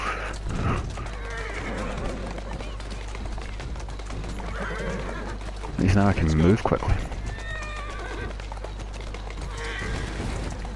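In the video game Assassin's Creed Syndicate, a carriage horse whinnies partway through, with hooves clip-clopping and a steady low rumble of the moving carriage, while someone talks over it.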